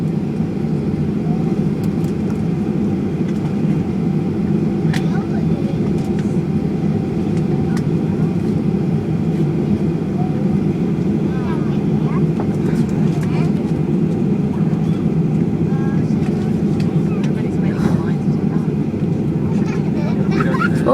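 A WestJet Boeing 737-800 takes off from Vancouver International Airport, its engines giving a steady, loud low roar and rumble heard from inside the cabin throughout, with faint background noise.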